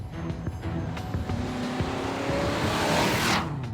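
The armoured presidential limousine known as The Beast is heard braking, accelerating and steering, with a steady, close engine and road roar that swells toward the end, a faint tyre squeal rising near the close, no voices.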